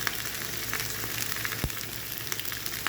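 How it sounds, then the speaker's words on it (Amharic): Kusa cooking in a frying pan in its own moisture with no added water, giving a steady close sizzle and crackle throughout with soft scraping stirs now and then and a single sharp knock near the middle. "መጥበሻ ላይ እንደዚህ እንከነውና ለአንድ 10 ደቂቃ እናበስለዋለን እያማሰልን ማለት ነው።"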